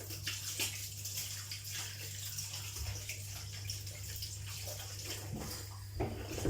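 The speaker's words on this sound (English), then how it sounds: "nice hand wash" Tap water runs steadily into a sink or basin during a hand wash, with a continuous hiss and soft splashing at low level throughout and occasional louder splashes near the end.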